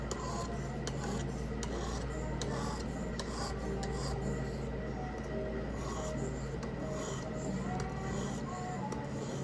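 A Buck 119 knife blade being sharpened, a steady, continuous rasping and rubbing of steel on an abrasive, close and constant throughout with brief scraping strokes.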